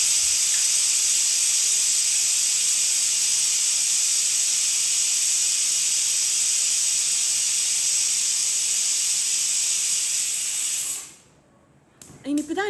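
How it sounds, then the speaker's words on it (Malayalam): Pressure cooker cooking mutton in a home kitchen gives off a loud, continuous steam hiss for about eleven seconds, then cuts off abruptly, followed by brief faint voices. "പിന്നിൽ കുക്കർ കൂക്കുന്ന സമയം ഞാൻ എങ്ങനെയായാലും കിച്ചണിൽ ഒറ്റക്കാണെങ്കിൽ കുറച്ച് അങ്ങോട്ട് പോയിട്ട് നിൽക്കും"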